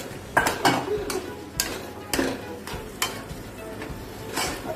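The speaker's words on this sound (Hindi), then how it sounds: "गैस को मैंने वापस से फुल कर दिया और ये गए छोले।" Chickpeas (chole) go into a hot pan on full flame, crackling and sizzling while a spoon scrapes and clinks against the pan in an uneven stirring rhythm, up close.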